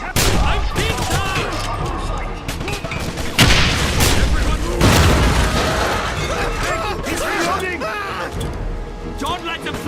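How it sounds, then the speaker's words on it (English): Gunfire from a German bolt-action rifle in the 2009 Wolfenstein shooter: loud booming shots and bursts over dense in-game battle noise, with people talking throughout. "infamous German bolt-action rifle, R98"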